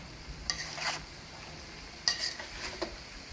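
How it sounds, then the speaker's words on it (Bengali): Salted potato slices are stirred in a pan for potato fries, with two short bursts of spatula scraping and clatter over a faint background hiss, close and fairly quiet, with no voices. "লবণ দিয়ে আর একবার ভালোভাবে এখানে নাড়িয়ে জড়িয়ে দেবো"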